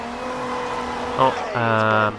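Car engine in Forza Horizon 2 droning steadily, then rising in pitch and revving louder for a moment near the end, with no talk over it.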